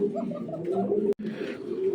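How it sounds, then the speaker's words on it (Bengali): A pair of pigeons coo in low, rolling, repeated calls, close and clear, with a brief cutout partway through. "খুব সুন্দর এক জোড়া কবুতর"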